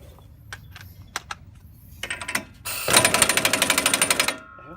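Pneumatic impact wrench snugging a front wheel hub nut on a GM 4x4 truck: a few scattered clicks and taps, then a loud rapid hammering burst of about a dozen regular impacts lasting under two seconds, close and alone.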